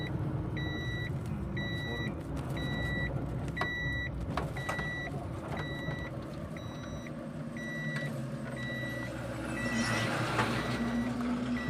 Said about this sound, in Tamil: லாரி வருது, நம்ம ஒதுங்க பார்ப்போம்.